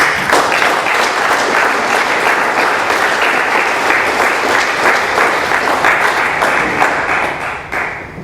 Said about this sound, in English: Let's have another round of applause for our speaker.